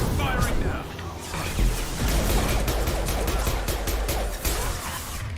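Dense, sustained volley of gunfire and crashing impacts from a Mass Effect 2 firefight, loud and continuous throughout with no quiet gaps, the shots blurring into a steady barrage.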